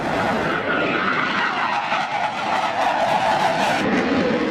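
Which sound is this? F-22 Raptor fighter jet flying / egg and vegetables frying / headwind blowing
F-22 Raptor fighter jet flying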